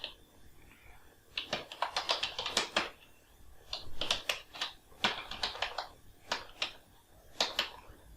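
Typing on a computer keyboard, manual data entry into an Excel 2019 form: bursts of rapid, close key clicks in several separate runs with short pauses between them, no voices.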